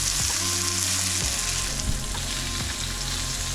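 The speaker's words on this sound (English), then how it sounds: "We got some sausages cooking up." Sausages frying in a pan for a breakfast sandwich, a loud, continuous close-up sizzle with crackling and no talk.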